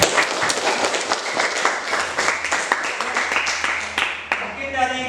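A classroom audience claps for a group's presentation, steady applause with sharp individual claps spread throughout and a voice speaking over it.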